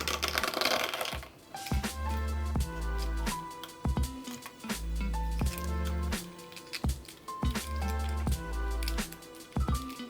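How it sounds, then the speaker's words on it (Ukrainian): Repeated close crackles and soft squishes of eggshells being peeled, irregular and quiet, over a gentle musical background. "Яйця я попередньо зварила, і тепер їх треба почистити."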